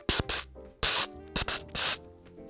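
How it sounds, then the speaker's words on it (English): Curl spray hisses onto hair in five close, sharp bursts, two short quick pumps followed by longer sprays in an uneven rhythm. "I got this curl spray and go"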